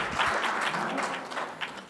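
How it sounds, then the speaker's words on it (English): Audience applause welcoming a speaker at a tech conference's lightning talks, a short burst of dense clapping from a room full of people. "Let's let Jonathan Yarbor, let's give him a big hand, round of applause and get this underway."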